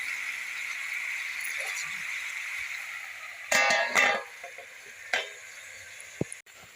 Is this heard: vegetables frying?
yes